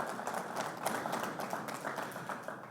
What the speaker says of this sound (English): A round of applause for his courageous tenacity.